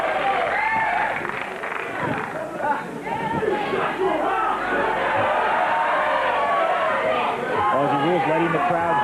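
A wrestling crowd roars and cheers steadily throughout, loud and dense, with an announcer talking over the noise.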